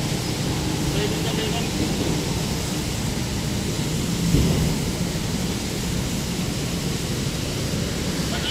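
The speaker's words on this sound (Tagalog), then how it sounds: "Ulan na naman." Steady, dense rain falls as a continuous hiss, with voices present and a brief low rumble partway through.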